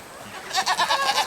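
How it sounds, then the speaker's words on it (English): Several short goat bleats follow one another in a quick series, close by, after a brief quiet moment. "Next are the goats."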